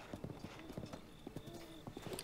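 A horse gallops in The Legend of Zelda: Breath of the Wild, its hooves clip-clopping in a quick, steady rhythm at a moderate distance over soft background noise.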